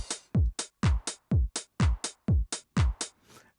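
Programmed drum beat in Ableton Live 12 with a crash cymbal added, about eleven punchy hits in a steady pattern of kicks, snares and bright cymbal washes, loud and close with no voices.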